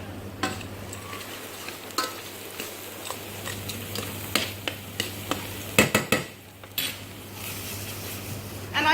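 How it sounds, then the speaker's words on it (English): Garlic tossed in a hot frying pan with browning beef for stroganoff: a steady low sizzle broken by repeated clanks and scrapes of utensil against the pan, fairly close and without talk. "I'm going to add my garlic and give it a bit of a toss"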